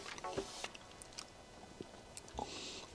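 Close-up chewing of a pretzel with herb garlic butter, giving a few crunchy bites and moist squishing chews in an uneven rhythm over faint background noise.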